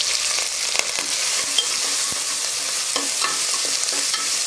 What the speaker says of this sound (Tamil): இப்போ நம்ம கட் பண்ணி வச்சுக்கிற வெங்காயம் போட்டுக்கலாம். அது கூடவே கருவேப்பிலையும் போட்டுக்கலாம்.